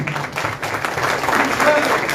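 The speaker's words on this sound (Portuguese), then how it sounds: "Eu pensei que fosse para mim as palmas." Audience applause at a gathering of elected federal deputies in Brazil, a dense steady clapping that builds slightly over two seconds, with a voice faintly under it.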